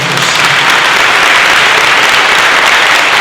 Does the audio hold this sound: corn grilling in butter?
no